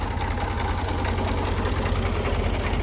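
Tractor engine running steadily in a rural village, a continuous low mechanical chugging with a rapid rhythmic knock, close and loud throughout without talk.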